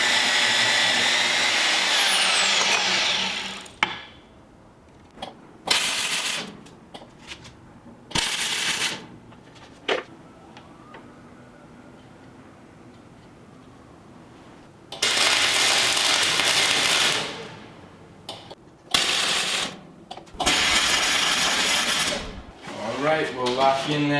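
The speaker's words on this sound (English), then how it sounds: "go to the Swag Offroad PortaBand table, cut up some of this aluminum angle stock to hang my shelf" A PortaBand saw on a table cuts aluminum angle stock in several loud bursts of harsh metal-cutting whine, separated by quiet gaps with small clatters, the longest cut running several seconds near the end.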